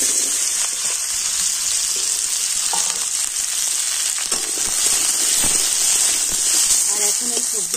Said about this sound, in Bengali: তো তেল গরম হয়ে গিয়েছে, আর এখন আমি সমস্ত সবজিগুলো তেলের মধ্যে দিয়ে দেব।